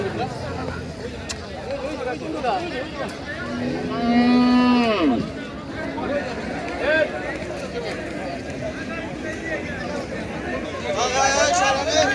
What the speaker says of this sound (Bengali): বিশাল বড় বড় গরুগুলো